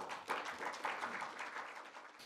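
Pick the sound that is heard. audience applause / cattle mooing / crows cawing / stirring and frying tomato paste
audience applause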